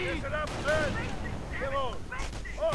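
Real-time strategy battle as grenadiers armed with light machine guns assault, producing rapid game gunfire bursts and booms layered with a caster's excited speech and tonal in-game effects.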